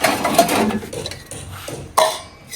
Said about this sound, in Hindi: इस टाइम के बर्तन मैं वाश कर लेती हूँ